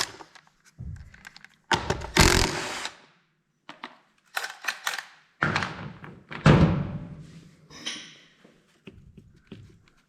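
Panel removal on a 2000 Yamaha TTR 90 dirt bike: a string of close, loud thunks, knocks and clatters of plastic and metal, in uneven bursts with short quiet gaps between them.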